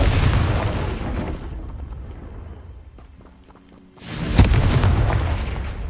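A Confringo blast spell going off in the Hogwarts Legacy video game: a loud booming burst of broadband noise, fading to a quieter rumble with a faint tone before a second strong blast erupts and roars on.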